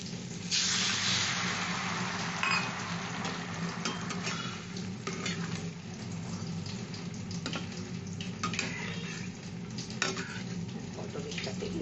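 Pointed gourd simmers in a wok with sugar and water, giving a steady close sizzle and bubbling broken by scraping stirs and light clinks of a utensil against the pan, with no talk.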